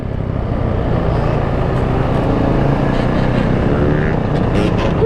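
A two-stroke Yamaha Banshee 350 quad being ridden hard, its engine a loud, steady, buzzing drone that fills the whole stretch with no let-up.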